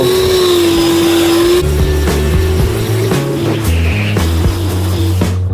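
A Kress battery-powered leaf blower runs flat out on turbo, a loud continuous whine and rushing airflow held close to the microphone, its tone wavering slightly as the motor holds speed.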